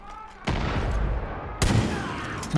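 Gunfire rattles in the video game Far Cry 5, two loud bursts of rapid shots each trailing into a rumbling echo.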